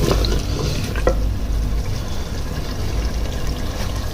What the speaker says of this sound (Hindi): ये कुकिंग ऑयल है ये साथ शामिल कर देंगे।